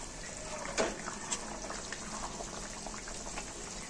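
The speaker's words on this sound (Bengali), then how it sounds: "ঝোলটা ফুটতে শুরু করে দিয়েছে, আলুও সেদ্ধ হয়ে গেছে" Potato curry gravy boiling in a pan, a soft, continuous bubbling and gurgling at close range with a few small pops, quiet and without speech.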